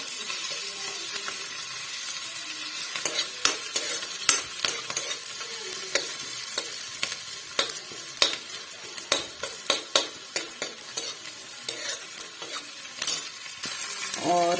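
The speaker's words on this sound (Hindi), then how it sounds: "इसके लिए मैंने ये डाल लिया अजवाइन और अब डाल लिया था प्याज" Ajwain seeds and chopped onion frying in hot oil for poha, with a steady sizzle and repeated sharp scrapes and clinks of a spoon stirring against the pan, close and fairly loud throughout, no talking.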